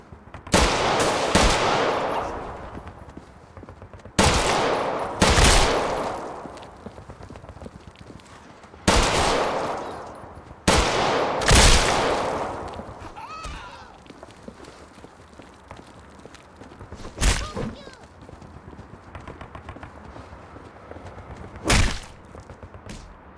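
Sharp gunshots from a zombie video game ring out in separate loud bursts, some in quick pairs, each followed by a short decaying tail, with quieter gaps and fainter shots between them.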